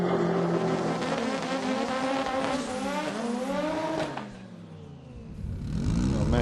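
Front-wheel-drive drag race car making a strong pass at Santa Pod Raceway, its loud engine rising through quick gear changes and then fading down the strip before another engine swells up nearby.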